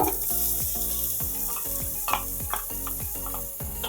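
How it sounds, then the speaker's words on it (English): Steady, loud sizzling of chopped onion, shallot, celery and carrots frying in a hot pot, with rhythmic stirring scrapes repeating throughout. "Nice sizzle"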